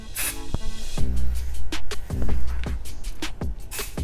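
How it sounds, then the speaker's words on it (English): Matrix Vavoom freezing hairspray sprayed onto hair in a run of close, loud aerosol bursts, some short and some sustained, hissing one after another with brief gaps and no talking. "my hair is nice and styled using just this freezing spray"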